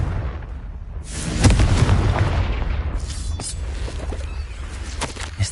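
A Confringo blasting spell in Hogwarts Legacy goes off as a single loud booming explosion about a second and a half in, then settles into a rumbling tail that fades over several seconds.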